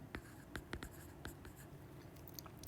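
A pen or marker writes on a surface, slashing through an equal sign, with a few quick, close scratchy strokes against a quiet background.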